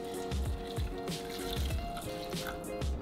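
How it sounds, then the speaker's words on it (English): Water pours steadily into a pot or bowl to make oatmeal, a close, continuous trickling and gurgling fill with small dripping splashes throughout. "We are going to add about this much of water."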